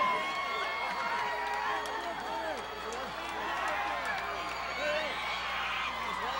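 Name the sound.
capacity wrestling crowd cheering champions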